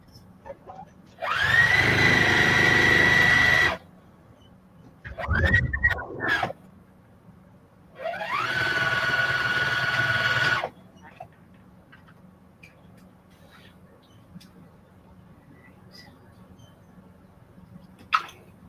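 A sewing machine stitches 2-inch sashing strips onto 12.5-inch quilt blocks. It runs close by in three bursts of steady, fast whirring stitching, each a few seconds long, with short pauses and light handling between them.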